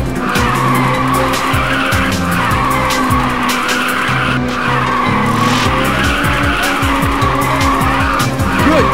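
A car drifts in the Ridge Racers 2 racing video game on a mountain course. A loud, steady engine roar runs throughout, with sustained tire skidding and squealing and no voices over it.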